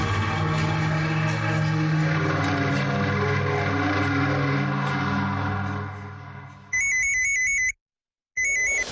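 A phone on an outgoing call gives a loud, steady electronic tone with a harmonic buzz that gives way to a repeating beeping ringback pattern, cut by a short silence before the beeps resume.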